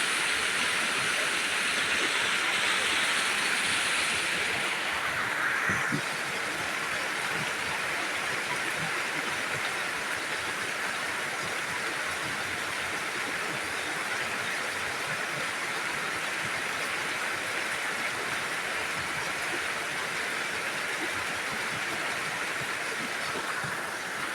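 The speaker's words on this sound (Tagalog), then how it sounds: "kung tuloy-tuloy ang ulan na yan lahat ko yung sa ibabaw na yon dito sa akin pupunta" Heavy rain pours steadily for the whole stretch while runoff water rushes down toward a house from the road above, a loud, dense, unbroken hiss and wash with no talk over it.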